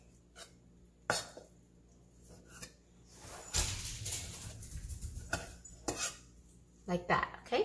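A knife slices through deep-fried portobello mushrooms on a board, with scattered clacks of blade and dishes, a throat clearing, and a stretch of crunchy cutting sounds near the middle.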